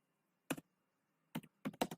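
Several quick keystrokes on a computer keyboard at a Kali Linux terminal, a lone tap followed after a pause by a short burst of three or four clicks, close and fairly quiet with no voices.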